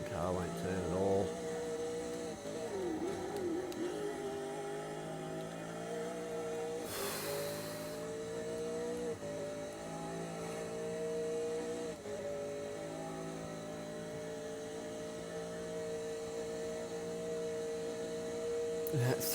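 A race car engine in a racing video game at Bathurst drones steadily throughout, with shifting pitch as it revs and slows, and a brief burst of noise midway, loud and continuous behind the action.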